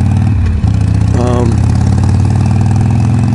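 Cruiser motorcycle engine running with the choke still on, a loud, close, steady low rumble with a brief rise in revs, with a voice talking over it.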